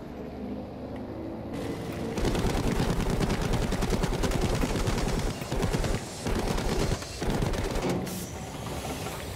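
Dense automatic gunfire from a gunner's mounted weapon in the Battlefield 5 video game, with loud sustained bursts that break off briefly and start again, plus engine rumble underneath.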